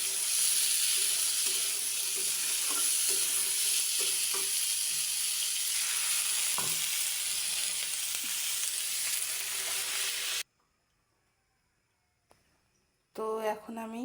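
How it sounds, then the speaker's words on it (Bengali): Chickpeas and diced potatoes sizzle in a frying pan, with a dense continuous hiss and occasional stirring clinks for about ten seconds, then a near-silent pause before a brief burst of sound returns. "এখন দিয়ে দেবো ছোলা। এখন একটু নেড়ে চেড়ে নিয়ে তারপর জল ঢেলে দেবো।"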